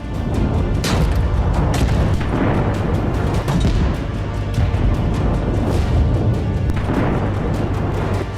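Explosion from an Israeli strike on a Hezbollah rocket launcher in southern Lebanon: a continuous loud, rumbling roar with repeated heavy booms and crackling bursts, dense and distant-sounding, without voices.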